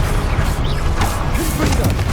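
An Expelliarmus disarming spell is cast in the Hogwarts Legacy video game, a continuous crashing, booming burst of magical combat effects that stays loud and dense for the whole stretch.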